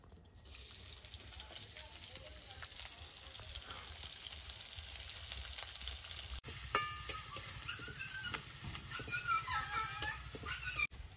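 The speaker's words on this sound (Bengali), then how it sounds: "পেঁয়াজ ভাজা হয়ে গেছে" Chopped onions sizzle and crackle steadily in a frying pan, a faint, close hiss with occasional stirring clatter.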